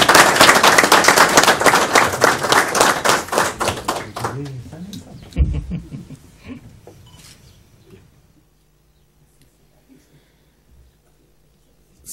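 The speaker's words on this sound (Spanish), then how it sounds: "Fuerte el aplauso." Audience applause at a Chilean firefighters' fire-truck handover ceremony, a burst of hearty clapping that fades after a few seconds, followed by scattered claps and a quieting room.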